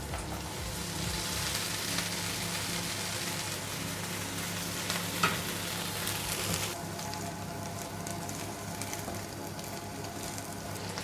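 Strained canned corn sizzles in melted butter in a pan for Korean corn cheese. A steady, even frying hiss runs throughout with no talking.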